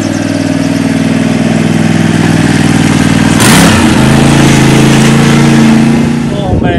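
A tractor engine runs steadily up close on a farm near Cuxhaven, a low harmonic drone that swells briefly louder midway before settling back, with no voices heard over it.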